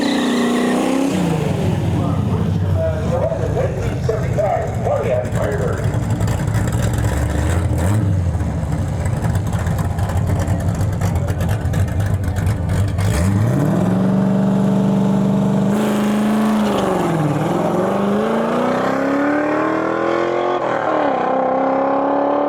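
A stick-shift Firebird drag racing at a dragway, its engine revving hard through gear changes with rising pitch sweeps, loud and sustained, the runs close and prominent with little talk.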